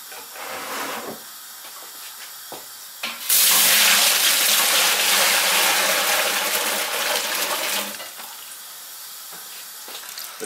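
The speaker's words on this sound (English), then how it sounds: "we'll slowly jug water over the mash" Water is jugged steadily over a grain mash during sparging for all-grain beer brewing, a loud continuous rushing pour lasting several seconds, with quieter splashes and trickles before and after.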